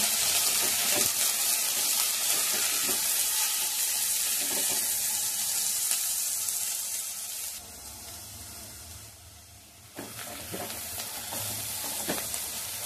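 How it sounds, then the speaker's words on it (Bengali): Green chillies, cashews and vegetables fry for fried rice, with a loud continuous sizzle and scraping stirs in the pan, easing briefly before picking up again. "কাঁচা লঙ্কাটাও দিয়ে দেব, আর কাজুটাও দিয়ে দেব, দিয়ে ভালো করে ভেজে নেব।"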